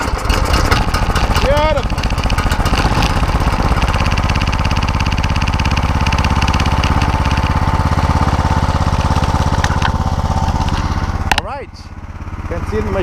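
An Ariens HydroPro 32 snowblower engine running steadily at close range, a loud continuous engine drone that dips near the end, with a brief spoken remark over it.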